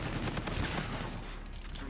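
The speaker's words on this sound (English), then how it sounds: "Oh, akimbo shotguns. I didn't even know that was a thing in this game." Akimbo shotguns firing in the video game Infinite Warfare, a dense burst of loud overlapping blasts filling the short moment, quieting slightly near the end.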